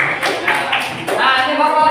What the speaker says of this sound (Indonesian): tepuk tangan buat kalian yang sudah mengerjakan